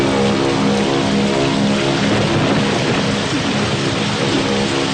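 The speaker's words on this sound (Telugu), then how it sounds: "వర్షం వస్తుంది" Steady rain pours down without pause, a dense, even hiss of drops close by, with no voices.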